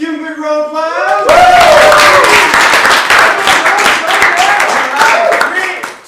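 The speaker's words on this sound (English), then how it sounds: "Give him a big round of applause!" Audience applause for the final team at a university hackathon, a dense burst of many hands clapping that swells and holds steady for several seconds, with cheering voices mixed in and a voice speaking briefly before it starts.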